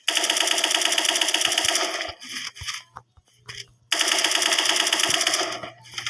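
Rapid automatic gunfire from a new weapon in the shooter game Special Force 2, loud sustained bursts broken by a short pause with scattered single shots and clicks before another long burst.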